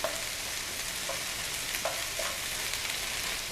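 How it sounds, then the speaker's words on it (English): Meatballs simmering in tomato sauce in a pan, stirred with a utensil: a steady soft sizzle and bubbling with a few light scrapes and taps against the pan, close up and without talk. "So I'll just stir this around,"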